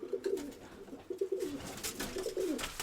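Domestic pigeons, white and silver-grey birds in a family loft, cooing in repeated low rolling phrases at close range, several bursts over a few seconds with faint background noise.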